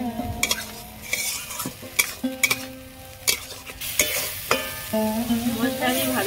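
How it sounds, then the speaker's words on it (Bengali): Spice paste (masala) fries in a pan for a cabbage and paneer dish, with a spoon stirring and scraping in repeated sharp strokes over a soft sizzle, close and clear, no talking. "মশলাটা এইভাবে ভালো করে কষিয়ে দেব।"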